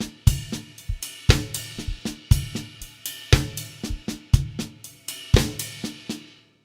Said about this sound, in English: we could move the right hand onto the ride cymbal, yeah? So something like this.